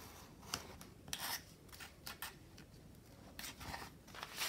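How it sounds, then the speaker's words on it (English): Paper edges stuck onto a recycled stationery folder being trimmed, giving faint, intermittent scratchy snips and rubbing strokes in short bursts against quiet background hiss. "I also need to trim these edges off that I stuck on before."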